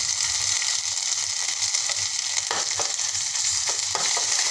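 Onion frying in a pan as garlic paste and roasted coconut paste are added for a restaurant-style veg Kolhapuri, giving a steady close sizzle with a few brief stirring scrapes and no talk.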